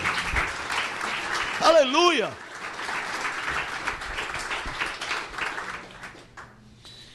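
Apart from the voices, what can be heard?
church congregation applause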